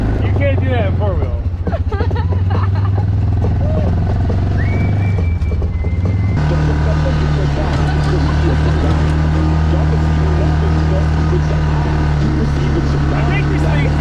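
A 2002-era Yamaha Rhino 660 UTV engine droning loudly and steadily, shifting to a higher pitched, harder-working roar partway through as the machine tries to spin out, with talk over the engine noise.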